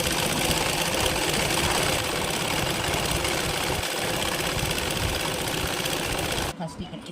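A sewing machine runs steadily and close while stitching a pant seam in a tailoring class, its dense rapid whirr continuing almost unbroken before stopping near the end.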